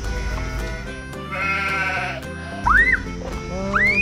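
Sheep at a petting farm bleat twice, loud and nearby, with a rising, wavering call each time over a steady background of outdoor hum.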